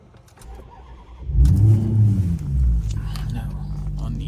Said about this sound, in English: So if we start the vehicle up,